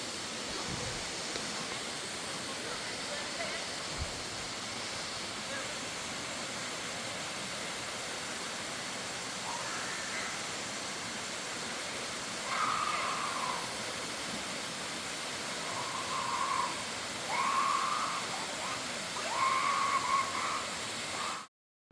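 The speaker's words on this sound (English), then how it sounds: "And here we have it, Blue Basin Waterfall with the blue basin at the bottom." Blue Basin Waterfall in Trinidad, where water pours into a basin below as a faint, steady broadband rush that continues unbroken, with a few slightly louder swells toward the end and no talking.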